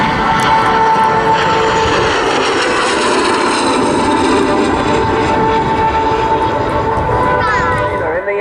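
A MiG-15 jet fighter flies past at an airshow, its engine a steady, loud broadband roar with a droning tone that holds throughout, fading slightly near the end, with a voice talking over it.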